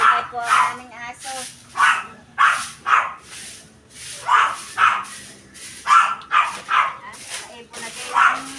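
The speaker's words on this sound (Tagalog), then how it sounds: "Gilay po ang aming aso." A dog barks repeatedly in short bursts and pairs, loud and close, with brief yips between barks in a quiet setting.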